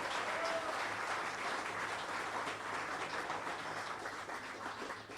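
Church congregation applauding after a sermon line, a dense, sustained clapping that holds fairly even for several seconds and tapers slightly at the end, with no speech over it.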